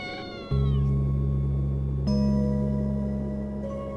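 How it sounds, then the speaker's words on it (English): A cat meows in a video game: a short rising cry, then two long sustained meows that fade slowly, close and loud, with no voices present. "Your cold heart melts upon seeing the cute cat sitting inside of the box."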